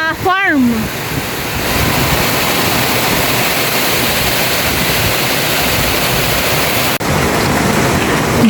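Strong wind roars continuously in broadband gusts buffeting the microphone, after a brief voice at the very start.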